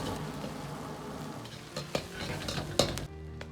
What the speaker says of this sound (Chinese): 接着下入葱姜，煸炒出香味